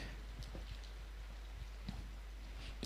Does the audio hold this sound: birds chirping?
no